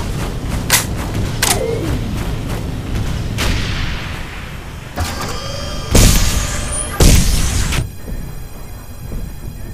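Rocket turret explosions in the online shooter Nuclear Dawn on the Metro map, a run of loud booms and blasts at irregular intervals, the strongest pair bursting close near the end over a busy background of battle noise.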